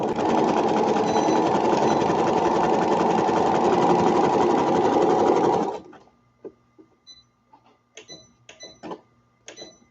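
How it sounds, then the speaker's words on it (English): A domestic sewing machine stitches a toddler peasant dress in short runs: a loud, steady motor whir for about six seconds, then stops, leaving faint clicks and handling taps. "So you're just sewing short distances."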